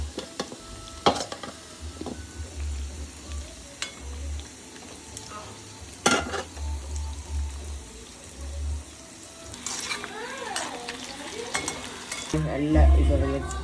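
Okra fries on a low flame in a pan, giving a soft, continuous sizzle. Occasional sharper clinks and scrapes of stirring break through, with faint water sounds toward the end.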